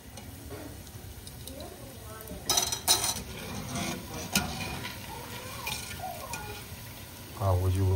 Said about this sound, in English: Pick it up, put it in a spider spoon and lower it, and then watch it fry